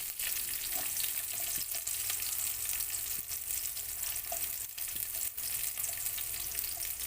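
Onions hit a hot pan still greasy from cooked beef for afritada, a loud, dense, continuous sizzle close up with faint occasional stirring knocks.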